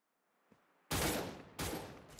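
Automatic weapon fire in the shooter game Cyber Hunter: two loud, dense bursts of rapid shots, the first lasting about seven-tenths of a second, then a short break and a second burst, after a faint, quiet lead-in.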